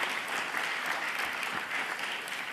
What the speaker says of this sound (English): Could we once again have a huge round of applause for all of these brilliant presenters of the Pecha Kucha session?